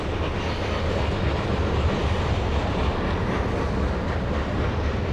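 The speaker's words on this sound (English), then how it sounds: "a train rolling between Johnstown and Altoona" A train rumbles steadily past at close range on the mountain railroad between Johnstown and Altoona, Pennsylvania, a continuous loud roar of wheels and cars on the rails with no pauses.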